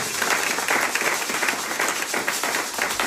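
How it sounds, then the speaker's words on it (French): A church congregation applauds together in a hall, a dense, steady wash of clapping that runs from start to finish with no pause. "Et maintenant, nous allons acclamer pour nous-mêmes."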